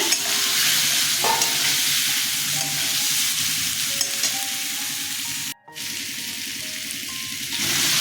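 Potatoes tipped into hot oil for a gathi kochu curry, a loud close sizzle and crackle of frying that runs nearly continuously, broken only by a brief dropout near the middle.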